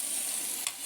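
Onions sizzle steadily in a hot frying pan, a bright, even hiss with a brief clink or stir near the end, no voices.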